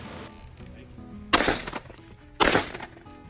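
Two loud shotgun blasts roughly a second apart, fired at an incoming dove during a dove hunt in Idaho, each a sharp crack with a short ringing tail over quiet outdoor background.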